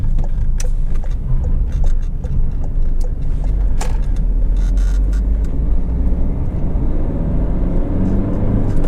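Peugeot 208 1.4 HDi diesel hatchback cruising at speed, a steady loud road and engine rumble inside the cabin with faint interior rattles, no voices.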